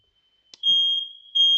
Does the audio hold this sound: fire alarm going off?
yes